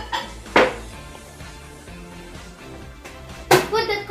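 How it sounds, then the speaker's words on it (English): A coffee cup set down inside a microwave oven in a home kitchen, giving two sharp ceramic clunks a few seconds apart over a quiet background. "Put the coffee in the microwave for 1 minute."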